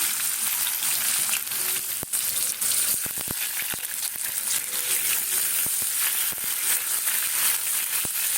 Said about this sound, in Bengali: প্রথমে রসুন দেব তারপরে দেব পেঁয়াজ এবারে পেঁয়াজটা দিয়ে দিলাম